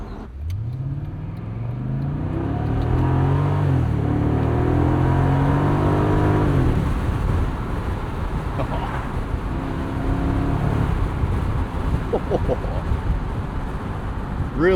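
A 2003 BMW Z8 Alpina V8 roadster accelerating hard, engine pitch climbing steadily then dropping at a gear change before pulling again, loud and close from inside the car.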